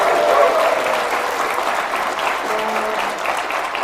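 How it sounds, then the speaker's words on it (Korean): Warm, continuous applause from a crowd at a political party's presidential campaign speech, dense and steady throughout, tapering slightly toward the end. "큰 박수 부탁드립니다."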